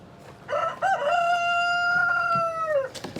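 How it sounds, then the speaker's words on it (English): An Australorp rooster crows nearby, one loud sustained cock-a-doodle-doo with a brief stutter at the start and a drawn-out falling tail, with faint clucking from other chickens around it. "these are pretty chill roosters, and that's why I chose them. They're called Australorps."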